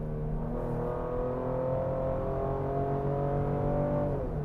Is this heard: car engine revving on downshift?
yes